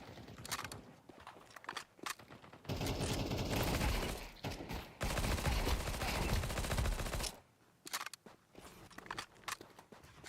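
Dense bursts of automatic gunfire in a Counter-Strike 2 deathmatch, loud and sustained for several seconds with sharp single shots and footsteps between volleys, no talking.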